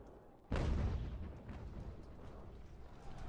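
A single heavy cannon blast of grape shot in the strategy game Ultimate General: American Revolution, erupting suddenly and loud, then trailing off into a long rumbling roar of distant battle.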